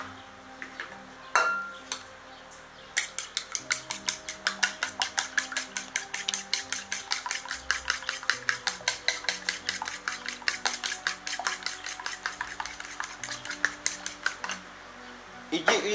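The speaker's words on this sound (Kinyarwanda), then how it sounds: "Cya mbere rero urabanza dukubite ryagi ryacu." Eggs beaten briskly in a bowl with a utensil for chapati dough make a rapid run of clinking taps that starts after a short pause and keeps a regular rhythm. Faint talk comes through now and then.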